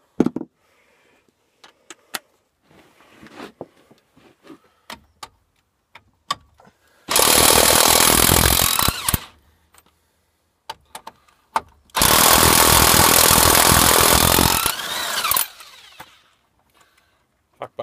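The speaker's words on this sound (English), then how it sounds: "power tools make life easy sometimes" A power tool such as an impact wrench whirs in two loud sustained bursts of a few seconds each while brake parts come off a 2002 Dodge minivan, with scattered clinks and clunks of tools between them.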